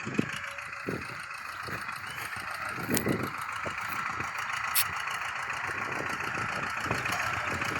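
A tractor engine runs steadily on a farm near a well, a continuous mid-pitched idling rumble with faint knocking throughout and a couple of brief sharp clicks.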